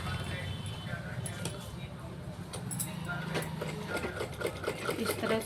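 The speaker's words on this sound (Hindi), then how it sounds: "इसके चारों तरफ सिलाई लगाएंगे।" A sewing machine runs steadily while stitching around a folded piece of blouse sleeve fabric, a continuous mechanical whir with faint metallic clinks, heard close and fairly loud.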